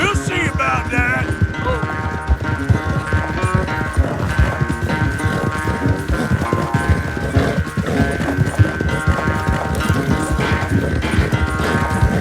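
Horse hooves galloping in a race in the Red Dead Redemption 2 video game, a fast, steady, loud clip-clop rhythm running continuously over music, close up.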